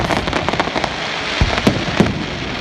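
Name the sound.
fireworks exploding at Poole Quay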